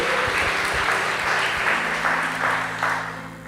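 Church congregation clapping in praise during a sermon, a broad, loud wash of many hands with a low hum beneath, easing off and thinning toward the end.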